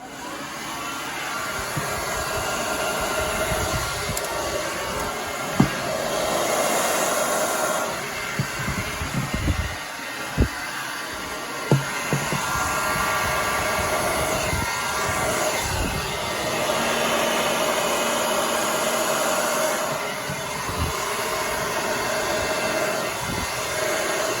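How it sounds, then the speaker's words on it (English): Steady whooshing roar of a hair dryer on high with the cool setting, blowing over an acrylic pour painting, running continuously and close, with a few faint knocks. "We're going to use the blow dryer. Always on cool and I use it on high."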